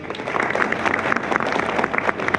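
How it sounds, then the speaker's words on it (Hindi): At a Republic Day gathering, a crowd claps in dense, steady applause for about two seconds. The clapping stays moderately close and fairly loud throughout. "जोरदार ताली बजना चाहिए भाई"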